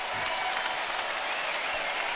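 Steady applause and ovation from an arena crowd at an Arkansas versus Fordham college basketball game, a fairly quiet, even wash of clapping.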